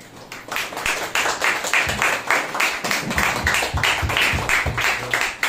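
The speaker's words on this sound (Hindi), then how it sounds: "जोरदार एक ताली बजाइए।" A church congregation claps loudly at a Sunday service, a steady run of sharp, close, rhythmic claps that swells and holds for several seconds with no talk over it.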